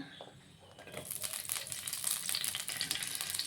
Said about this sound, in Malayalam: അപ്പോൾ നമ്മൾ ഇച്ചിരി വെളിച്ചെണ്ണ ഒഴിച്ച് അതിലേക്ക് നമ്മൾ ആദ്യം ഇടുന്നത് നമ്മുടെ പച്ചമുളക് ആണ്.